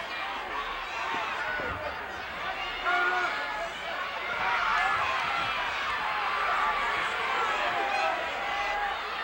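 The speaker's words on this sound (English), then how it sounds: "The crowd is screaming, trying to tell Rufus that Christie has some object of some kind" A loud wrestling crowd roars and screams continuously during an All-Star Wrestling show, a dense wall of cheering and shouting that swells midway and stays loud throughout, with no clear single voice standing out.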